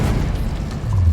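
Bombarda explosion spell in Hogwarts Legacy, a loud, dense, low rumbling blast filling the whole short moment, with no talk.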